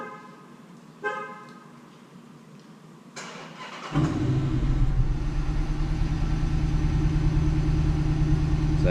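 Chrysler 300 with a 5.7L HEMI V8 and stock exhaust warm-starting: a brief chime, the starter cranking, then the engine catching with a loud flare and settling into a steady, deep idle rumble.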